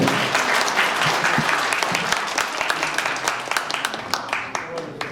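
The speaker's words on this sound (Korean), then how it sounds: "큰 박수로 마치도록 하겠습니다" Sustained audience applause fills a seminar hall at the close of a sustainable-livestock panel discussion: dense, steady clapping from many hands, loud and close, tapering slightly toward the end.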